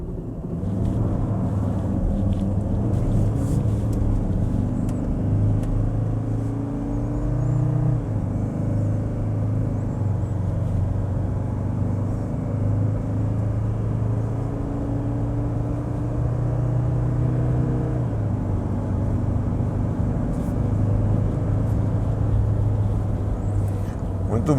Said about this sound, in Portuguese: apenas para a gente ver o nível de ruído interno em aceleração